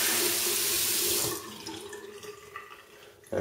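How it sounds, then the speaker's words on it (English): Hot water running hard into a bathroom sink as a hand towel is wrung out, a loud rushing stream that cuts off into dripping and splashing before a final burst of water. "Wring it out."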